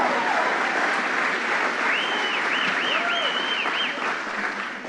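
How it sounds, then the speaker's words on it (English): Applause from the crowd at a vice-presidential campaign stop in Bangor, Maine, continuous dense clapping under whistles and cheers, steady throughout. "So let's give a round of applause to John Featherson and Steve Robinson."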